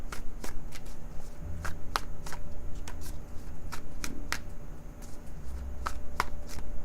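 Cards are shuffled repeatedly in quick, crisp riffling bursts, close and clear, with a faint hum in the background and no talking.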